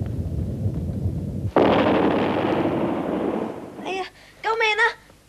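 A cartoon machine, overloaded past its limit, blows up in a loud sustained burst of explosive noise that rumbles on for a couple of seconds after a low mechanical drone, followed by frantic cartoon voices shouting.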